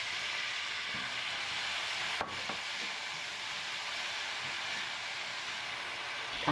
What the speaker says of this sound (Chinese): 再加点生抽进去翻炒